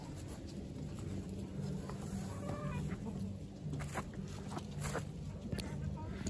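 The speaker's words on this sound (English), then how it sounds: "I open up the door and let the chickens run through the whole yard" Chickens cluck softly in a backyard in winter, with scattered clucks and light pattering over a low background hum while someone talks nearby.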